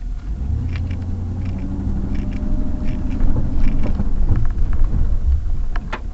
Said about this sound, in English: Now, see, I can hear this truck binding.